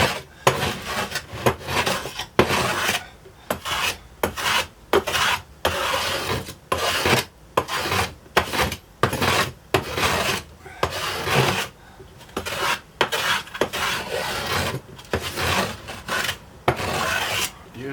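Hand plane taking repeated rasping swipes along wooden acoustic guitar sides during building, a steady series of close, loud strokes separated by brief pauses, with no talking.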